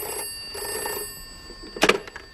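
A telephone rings late at night in a home for a British sitcom scene, with two short bursts of ringing followed by a brief clatter as the receiver is picked up.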